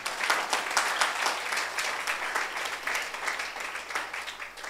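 Church congregation applauding during a sermon, dense sustained clapping from many hands, fairly close and steady throughout.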